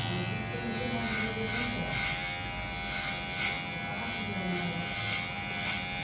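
An electric hair clipper buzzes steadily and continuously at close range during a haircut, with a faint voice speaking underneath.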